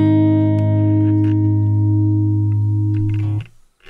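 Electric guitar in a GTA RP game strums a sustained blues chord that rings loud and close for several seconds, then stops abruptly, with faint speech-like sounds at the end.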